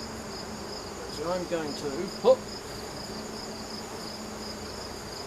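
Honey bees buzzing around hive frames stacked full of honey, a faint steady hum with a few louder passes close by, and someone briefly talking over it.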